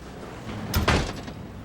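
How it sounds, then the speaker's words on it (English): A door shuts in an office scene in a police drama, one short muffled thud with a brief rattling close, fairly near, heard alone without talk. "Shut the door."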